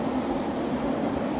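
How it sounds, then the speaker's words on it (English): Loud, steady rumbling roar of a Tokyo subway train in motion, dense and continuous without any voices. "It's another classic Tokyo subway."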